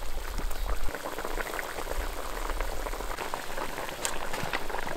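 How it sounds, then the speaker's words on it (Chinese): Yellow croaker braises in a bubbling sauce, a dense and steady simmer of small bursting bubbles, close and continuous. "把这个鱼大概烧20分钟，就收一下汁儿"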